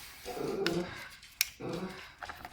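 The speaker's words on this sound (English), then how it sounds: "my dog sees somebody down the road" A dog growls low at someone down the road outdoors, with two rumbling bouts and a sharp click between them, close to the recorder and with no talking.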